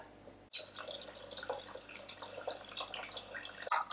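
Water poured into a simmering Spanish-style puttanesca sauce with smoked paprika, a quiet close-up of dripping, splashing liquid that starts abruptly, runs for about three seconds and cuts off sharply.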